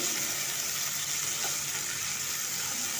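Chopped onion, a bowlful of one large onion, hits a pan and sizzles with a steady, dense hiss that holds evenly throughout, close and moderately loud with no talking.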